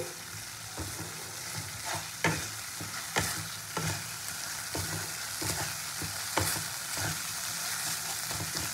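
Spice paste sizzling as it fries in oil for Bengali katla kasundi, a steady low crackle with a few sharper stirring scrapes and clinks throughout, close and moderately loud with no talking.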